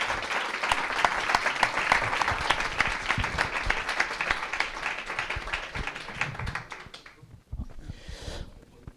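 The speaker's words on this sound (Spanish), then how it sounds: "Un fuerte aplauso para Manuel y para Sandra." An audience gives a strong round of applause for two guests, Manuel and Sandra, with loud, dense clapping that holds steady and then drops away near the end, leaving a brief quieter tail.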